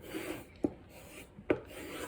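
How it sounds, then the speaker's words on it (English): A knife edge drawn along a strop loaded with rouge to remove a burr: two soft, brief rubbing swipes about a second apart over a quiet background. "we use our strop and a piece of rouge."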